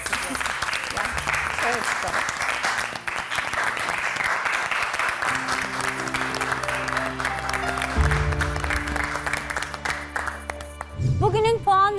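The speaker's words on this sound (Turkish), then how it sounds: "Alkışlarla uğurluyorum sizi." Studio audience applauding on a Turkish TV show, steady sustained clapping under a host's talk and music, continuing loudly throughout.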